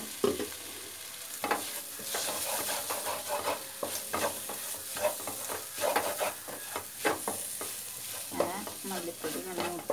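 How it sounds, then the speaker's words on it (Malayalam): Coriander powder roasts in a pan for a fish fry masala, with a steady sizzle under repeated scraping strokes of a spoon, close and moderately loud. "മല്ലിപ്പൊടി ഇങ്ങനെ മൂത്ത് വരണം."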